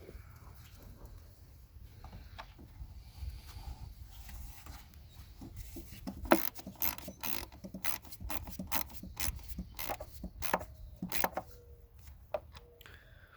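Close ratcheting clicks in short bursts come from a ratchet tightening valve cover bolts on a Mazda 3 engine, quiet at first and then a denser run of clicks over low background hum, with no talking.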